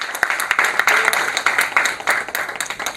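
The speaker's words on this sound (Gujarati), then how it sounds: "તાળીઓ આપણે એમના માટે પાડીએ" An audience at a stock-market seminar breaks into hearty clapping, many sharp claps close together in an uneven, lively patter that keeps going for the whole stretch.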